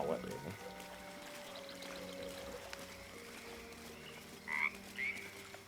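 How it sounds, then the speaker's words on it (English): Frog croaking in the video game Baldur's Gate 3, a couple of short sharp croaks near the end over steady ambient game music and drones, with a brief louder accent at the very start. "And then there's that frog."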